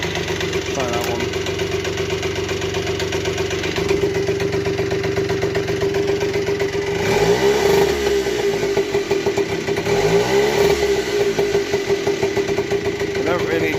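A Tomos AT50 moped engine idles with a steady putter, then revs up twice in rising, whining bursts before settling back to idle.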